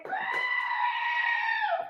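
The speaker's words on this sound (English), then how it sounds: "A fan of the screaming goat?" A goat's drawn-out, human-like scream rings out as a single loud, sustained bleat of about two seconds, standing alone with no talk over it.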